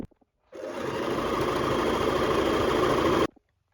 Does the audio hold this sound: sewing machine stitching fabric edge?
yes